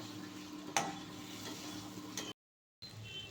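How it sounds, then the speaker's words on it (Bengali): Eggs stir-fried with spice masala in a pan, a low steady sizzle broken by a couple of sharp spatula clicks, cutting out briefly to silence before the frying resumes. "এভাবে একটুখানি আমি মশলাটার সাথে ডিমটাকে ভালো করে কষিয়ে নেব।"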